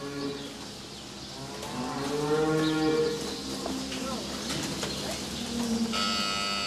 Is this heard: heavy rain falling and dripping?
no